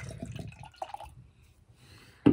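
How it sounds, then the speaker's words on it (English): Beer poured from a can into a glass makes a brief, close liquid trickle and splash, ending in a sharper burst of sound. "Pour a little bit for you."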